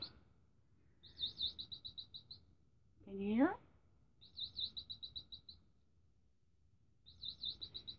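Quick electronic chirping trills from toy birds in a plant display inside an RV repeat in three evenly spaced bursts, high and thin, with a brief spoken question in between.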